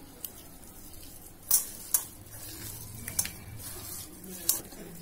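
A spoon works ginger-garlic-green chili paste around a pan with a soft squishy stir under a light sizzle, marked by several sharp metallic taps and scrapes against the pan.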